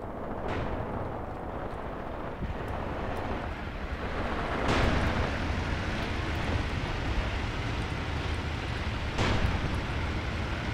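Anti-tank guns fire in the Graviteam Tactics war game, a few heavy booms spaced seconds apart over a constant low rumble of distant battle, with no voices.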